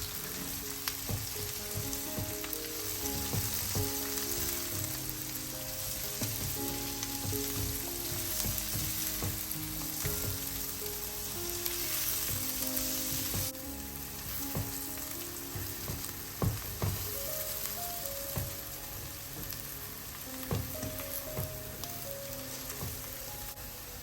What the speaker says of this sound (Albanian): I përziej mirë të gjithë perimet bashkë për pak minuta.